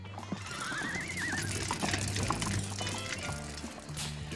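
A horse whinnies once, a rising and falling neigh, over a steady low hum and faint background clatter.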